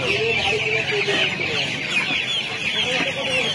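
Many chickens cluck and squawk continuously at a busy, noisy hen market in Uluberia, with faint voices mixed in the background.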